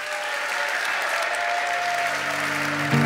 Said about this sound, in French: j'accueille Éric Forestier et André Pierron sous vos applaudissements nourris